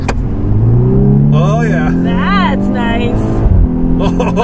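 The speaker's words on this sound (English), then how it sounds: "did you hear that backfire?" 2013 Volkswagen Scirocco R with a dual-clutch gearbox in sport mode accelerating hard, the engine rising in pitch through a gear change with a sharp crackling pop from the exhaust, heard from inside the car with voices over it.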